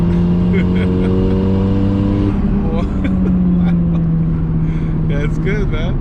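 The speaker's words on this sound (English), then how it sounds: "When it goes higher in the revs, that's when you hear the dumping" An Audi A4 B5 with a big turbo engine drones steadily and then eases off. Voices talk over the engine throughout.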